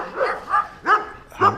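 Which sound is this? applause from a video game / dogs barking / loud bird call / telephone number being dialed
dogs barking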